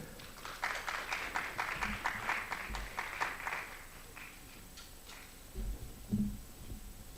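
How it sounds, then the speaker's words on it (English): An audience at an academic colloquium of a development planning and management department claps for several seconds, a fairly quiet patter of many hands that thins out and fades, leaving a low room hum. "Please give a round of applause."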